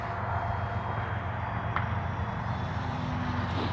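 An E-Flite Carbon Cub S2 radio-controlled plane cruises overhead, its small electric motor giving a steady, moderately distant whine and drone that holds evenly throughout with a slight pitch shift near the end.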